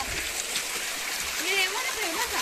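Water from a mountain stream flows at Gaumukh with a steady broad rushing wash, while a person talks over it in the second half.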